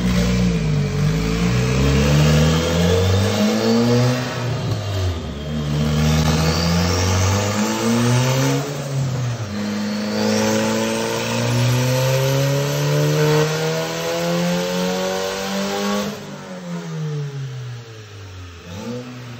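A Porsche with a swapped-in Honda K-series VTEC engine revs hard on a dyno, climbing repeatedly through high-pitched pulls with brief drops between, loud and close and without voices.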